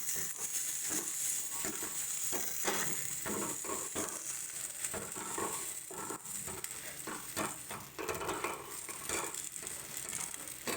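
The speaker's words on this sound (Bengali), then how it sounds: "এবারে দিয়ে দিচ্ছি আগে থেকে তৈরি করে রাখা উচ্ছেটা আর ডালটা, দুটো দিয়ে ভালো করে মিশিয়ে নিচ্ছি" Onion, bitter gourd and lentils stirred in a frying pan, a steady sizzle with repeated scraping and clinking of a spatula against the pan, close and continuous.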